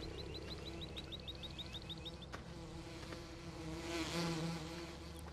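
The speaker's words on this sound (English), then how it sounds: "There's our two bee houses." Bees buzz steadily around a pair of bee houses on a farm in Farming Simulator 15, a continuous insect drone with a few short chirping calls early on and a louder swell near the end.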